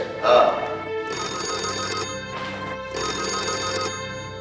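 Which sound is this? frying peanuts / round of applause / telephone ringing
telephone ringing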